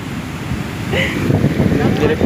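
Sea waves wash up onto the shore with a loud, rushing surge close by, mixed with wind buffeting the microphone, while people talk over it.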